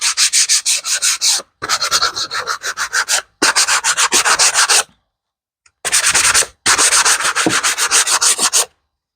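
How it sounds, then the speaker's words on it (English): Sandpaper rubbed around the edges of an MDR art board on both sides, making loud, close, rhythmic scraping strokes in four bursts separated by short pauses. "I just run this sandpaper over here all the way around on both sides."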